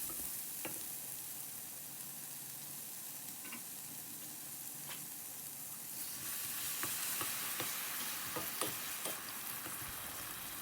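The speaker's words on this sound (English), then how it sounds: "After mixing the coconut milk with the red curry paste" Coconut milk and red curry paste stirred together in a pot for chicken wings curry, giving a steady soft bubbling sizzle with scattered clicks of a utensil against the pot, growing a little busier toward the end.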